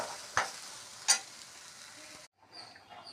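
A spoon stirs vegetable kurma in a pan, with two sharp scraping strokes over a soft, continuous sizzle before the sound cuts off abruptly.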